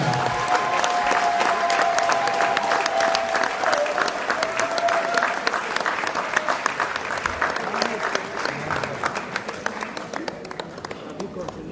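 Sustained crowd applause at a heart-charity gala evening in Orléans, dense and loud, continuing steadily for the whole stretch with a murmur of voices mixed underneath.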